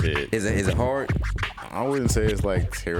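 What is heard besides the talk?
None of the usual background noises is heard.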